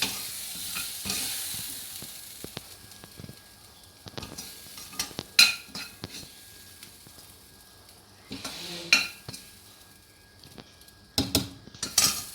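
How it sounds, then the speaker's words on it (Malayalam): Kerala-style potato and beef curry with coconut milk is stirred in a pot, with close sizzling and bursts of spoon scraping and clinking against the metal. "ഇനി ഇതിളക്കി സെർവ് ചെയ്യാവുന്നതാണ്."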